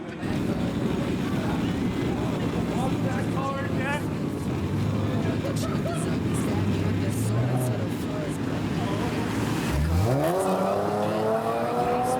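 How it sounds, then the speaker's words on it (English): A car approaches and rushes past on a road during an outdoor film shoot, wind buffeting the microphone throughout, with a rising whoosh and pitch sweep near the end as it passes close by. "There's a car coming, be careful."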